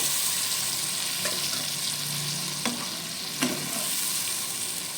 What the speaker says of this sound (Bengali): জল দিয়ে এটাকে একটু নেড়ে দেব